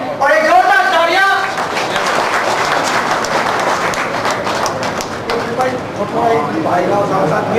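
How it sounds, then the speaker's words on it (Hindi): Loud applause at an award ceremony: a crowd claps in a dense, fast patter that swells through the middle, with voices talking at the start and end. "और एक जोरदार तालियां"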